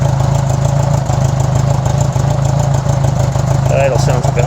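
A 1980s Honda GL1200A Gold Wing motorcycle, a $400 bike, idling low and steady just after its first start, with a constant loud engine drone close by and a faint voice near the end.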